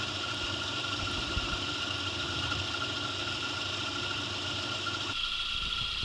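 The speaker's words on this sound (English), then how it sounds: "This is my last attempt to use the cross slide to cut an angle." An antique 1920s IXL lathe drones steadily with a continuous mechanical hum and vibration as its cross slide cuts an angle in aluminum bar stock, the motor noise dropping abruptly near the end.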